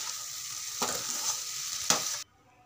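Tomato masala sizzles steadily in a pan, with two distinct scraping stirs against the metal before the frying sound cuts off.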